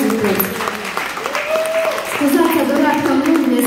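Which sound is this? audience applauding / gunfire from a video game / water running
audience applauding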